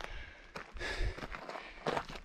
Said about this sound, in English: The final footsteps up to the top of the saddle.